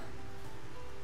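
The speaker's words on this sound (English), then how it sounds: "Because it started raining, that's why." Rain falling in the video game Xenoblade Chronicles: Definitive Edition, a soft, steady hiss of rainfall heard briefly and at low volume.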